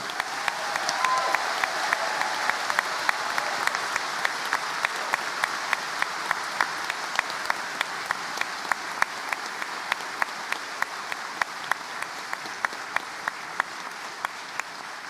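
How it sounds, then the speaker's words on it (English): Graduation ceremony audience applauding steadily for about fifteen seconds, a dense wash of hand claps filling a large hall, loud and sustained without a break. "I'm going to ask you to do one more round of applause for everyone who's graduated today"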